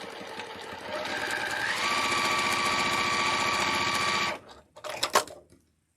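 A sewing machine stitches quilt pieces for a Dresden sunflower block, running in a fast continuous whir that speeds up slightly, then stops abruptly, followed by a few short clicks and handling sounds before silence.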